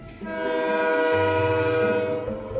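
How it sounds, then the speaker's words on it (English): A real train rolls past outdoors, its loud horn-like tones and steady rumble filling the whole stretch, with a deep low drone joining partway through. "That's an actual train in real life, by the way."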